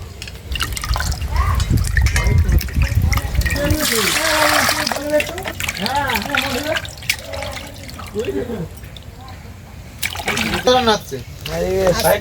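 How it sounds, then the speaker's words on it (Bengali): Cut raw aila fish being rinsed by hand in water, with splashing, sloshing and dripping through most of the stretch while a person talks over it. "মাছগুলো সব কাটা হয়ে গেছে এবার ধুয়ে নেব"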